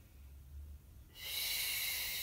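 Forceful breathing during a Pilates abdominal exercise: a low soft breath, then from about the middle a loud, sustained airy hiss of exhalation close to the ear, with no talking.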